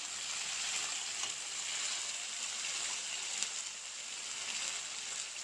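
Small fish (moka fish) frying in oil in a pan for a home-style curry, a steady, close hiss and crackle of sizzling that holds evenly throughout with no talking.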